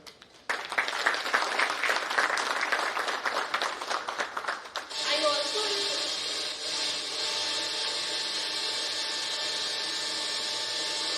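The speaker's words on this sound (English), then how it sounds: "Let us welcome our esteemed panelists with big round of applause" An audience at an engineers' association event gives a panel a round of applause. A crowd of dense, even clapping lasts about four seconds, then stops abruptly, leaving a steady hiss of room noise.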